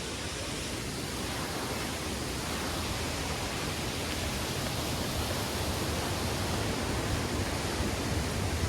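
Steady broadband rush of the Neer waterfall near Rishikesh, a constant loud roar of falling water with no breaks or other sounds.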